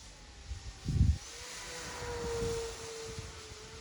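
An E-Flite Turbo Timber Evolution 1.5m RC plane makes a low-level pass: a steady, moderately loud electric motor drone that swells toward the middle and fades out, with wind buffeting the microphone at the start.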